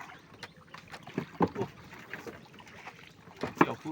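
A boat moves along a tidal mangrove creek in the Sundarbans, making scattered quiet splashes and knocks against the water, with two sharper bursts of sound.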